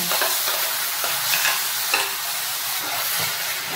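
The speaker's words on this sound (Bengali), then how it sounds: "রসুনটা বেশ ভালো করে ভেজে নেব।" Crushed garlic and a spice paste fry in a pan, making a loud, continuous, close-up sizzle with occasional scraping stir strokes and small pops throughout, without talk.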